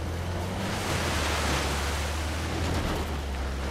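A waterfall in the video game Uncharted: The Lost Legacy gives a constant broad roar of rushing water that stays even and unbroken throughout.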